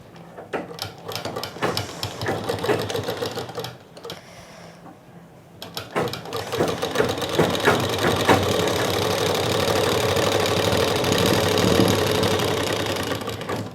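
A sewing machine stitching the side seam of sharara pants runs in steady rapid bursts, pausing briefly midway before a longer continuous run, close and fairly loud with no talk.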